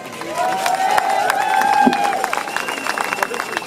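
Crowd at a Manchester anti-austerity street rally applauding and cheering a campaigner, a steady mix of clapping and voices with whistles and shouts rising through the crowd noise.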